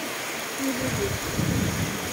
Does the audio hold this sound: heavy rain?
yes